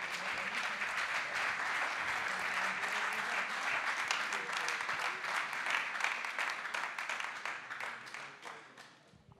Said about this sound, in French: on peut les applaudir eux aussi très fort